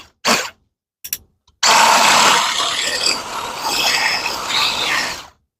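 An electric hand blender fitted with its whisk attachment runs loud and steady in eggs after a few brief start-up bursts, a dense continuous whirring whine that wavers slightly in pitch and fills the kitchen.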